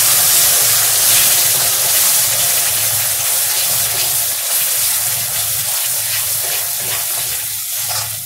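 Water with blended mixture poured into a hot pan for curry leaf tamarind curry, loud steady sizzling and bubbling that slowly settles, no voices.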